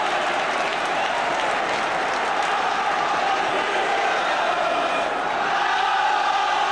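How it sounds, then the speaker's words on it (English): A football stadium crowd at Norwich City versus Inter Milan applauds a near miss, a dense, sustained wash of clapping and crowd roar holding steady throughout. "it gets a hand from the crowd."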